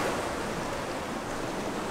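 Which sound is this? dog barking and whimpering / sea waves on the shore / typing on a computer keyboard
sea waves on the shore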